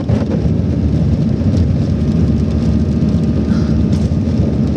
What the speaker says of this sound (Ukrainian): Перший маленький дощ падав, зараз більший.